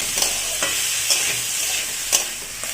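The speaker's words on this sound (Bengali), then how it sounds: "এগুলো আগে ভেজে নিই" Steady loud sizzling of carrots, beans, capsicum and peas frying in a pan for mixed fried rice, with periodic scraping clicks of a utensil stirring, close up and continuous.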